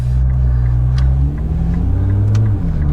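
Car accelerating hard up to 60 mph on a road, the engine pitch climbing through gear changes with a loud, close, continuous roar and no talk.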